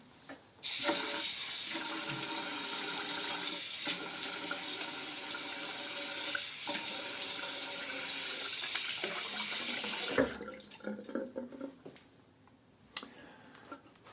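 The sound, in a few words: tap water wetting face before shaving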